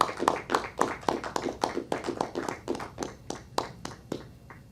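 A small audience claps for Joe Biden, a thin, sparse round of individual hand claps at a fairly steady pace that fades slightly toward the end, with no cheering.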